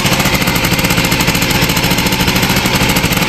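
A small motorcycle engine, freshly rebuilt and fitted with a new 26 mm carburetor, revs loud and harsh in a steady rapid rattle close by, with no talk over it.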